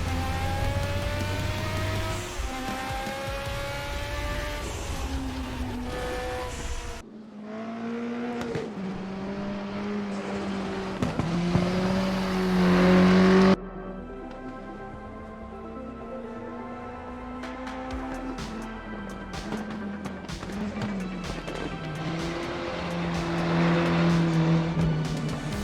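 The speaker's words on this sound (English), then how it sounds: "The Ford Zaxpeed Capri Group 5 car." Ford Zaxpeed Capri Group 5 race car in RaceRoom, its engine droning steadily with rising and falling revs through gear changes, loud and continuous with brief dips between shifts.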